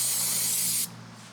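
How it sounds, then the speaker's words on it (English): Brake cleaner sprays from an aerosol can onto front brake parts of a 2014 Ford F-150, a steady close hiss lasting under a second before cutting off abruptly. "Spray it down really good with brake cleaner, and then go ahead and just wipe down that edge."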